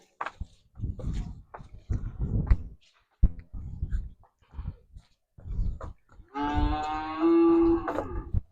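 A large buffalo at a village livestock sale gives one long, loud, close low moo near the end, after a run of short snorts, shuffles and huffs.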